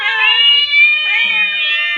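A cat meows in a long, drawn-out, loud wavering cry that rises and falls close by, with no voices over it.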